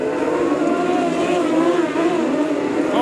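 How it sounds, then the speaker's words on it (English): TQ midget race cars at a New Zealand championship qualifying race, engines straining hard in a steady, loud, continuous drone with a rising and falling whine as several cars run side by side. "You can hear these race cars working hard."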